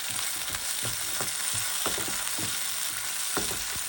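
Chickpeas and peas fry in a pan, giving a steady close sizzle while a spoon scrapes and stirs in irregular strokes.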